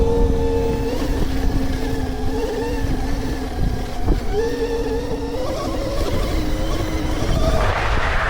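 A KOOZ Mototech 72V 8000W electric motorcycle climbs a hill with a loud, continuous motor whine whose pitch rises and falls with throttle, rough terrain rumble underneath and a wind-like hiss building near the end.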